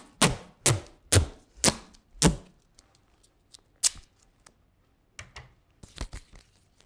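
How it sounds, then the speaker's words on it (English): Duct tape is pulled and pressed along the edge of felt in a run of five sharp ripping strips, each a quick tearing rasp. Softer crinkles and a few more tears follow, close up and alone. "I'm going to take a piece of duct tape and run it all the way along the edge here"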